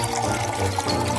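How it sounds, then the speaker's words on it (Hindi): A drink pours steadily into a glass, a continuous close liquid splashing and gurgling with no talk over it. "चलो इसे इस ग्लास में डालती हूँ।"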